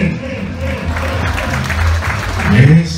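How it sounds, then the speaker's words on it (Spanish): A crowd applauds steadily, with loud cheering and voices mixed in throughout. "Que los aplausos a la una, a las dos, a las tres,"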